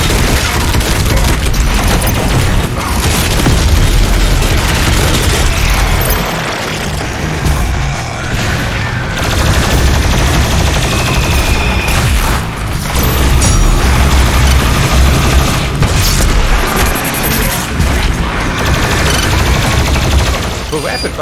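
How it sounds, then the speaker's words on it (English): Rapid-fire plasma rifle bursts in DOOM Eternal, a dense loud barrage of shots and explosions over a thick game soundscape, dropping briefly in short gaps. "For a rapid-fire weapon, the plasma rifle is quite nice."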